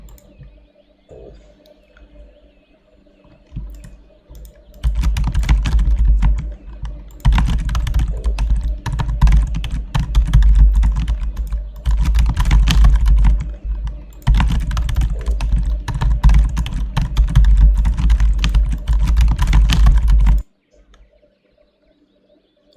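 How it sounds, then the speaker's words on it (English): Computer keyboard typing while a city-building game is played, starting faint and building into dense, continuous rapid key clatter in bursts with brief pauses, close and loud, then stopping abruptly. "I was typing the poll and I hear the keyboard going."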